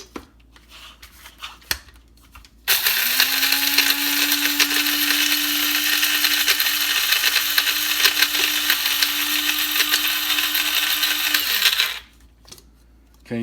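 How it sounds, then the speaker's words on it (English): Electric spice grinder whirring steadily for about nine seconds as it grinds juniper berries for a German-style dry rub, loud and close, starting and stopping abruptly. "now what we're gonna do is put the lid on this and grind it up"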